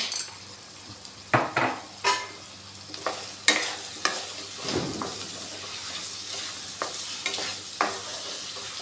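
Metal spoon scraping and stirring turmeric and ginger-garlic paste in a hot pan while cooking aloo palakura, with a series of sharp clinks and scrapes over a low, steady sizzle, close and unaccompanied by voices.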